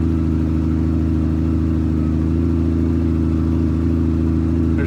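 Motorcycle engine idling then pulling away on a Tokyo street, a steady mid-pitched hum with a rising rev, close and continuous with no talk.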